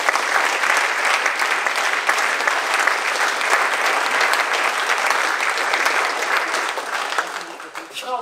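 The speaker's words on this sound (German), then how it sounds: "Bitte begrüßen Sie mit einem herzlichen Applaus unsere Gastgeberin" Sustained applause from an event audience welcoming the host at an awards ceremony, loud and steady throughout before thinning slightly at the end, with no talk over it.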